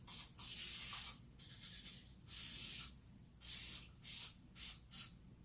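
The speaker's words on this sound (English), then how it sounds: "I'm going to go ahead and spray this." Several bursts of cooking spray hiss onto a hot pan, a few long and then shorter quick puffs, close and fairly loud with quiet gaps between.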